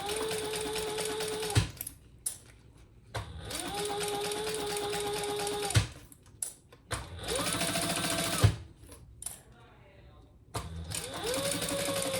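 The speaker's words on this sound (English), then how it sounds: "Let's close the bottom edge, just baste it closed, and then we'll just top stitch around the zipper." A sewing machine top stitches a fanny pack in four runs of steady mechanical whirring, each a couple of seconds long. Brief quiet gaps and small handling knocks fall between the runs.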